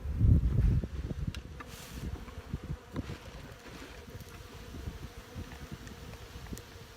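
Honey bees hum in a low, steady drone around an opened hive box during an early, cold Canadian spring, with clunks and thumps of frame handling loudest at the start.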